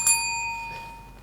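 A single bright bell ding from a contestant's buzzer on a game show, sharp and ringing at the start, then trailing off into a faint decaying tone with a soft second chime.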